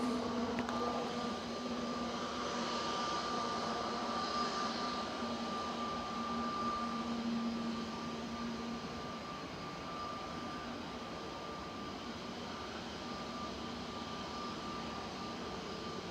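A parked EasyJet airliner at Manchester Airport, its engines droning in a steady, loud, continuous roar with a sustained whine, fading slightly partway through, with no voices.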